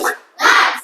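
A group of children claps a short rhythmic 'tepuk semangat' cheer in a classroom, a quick burst of claps followed by a louder, denser second burst, close and lively.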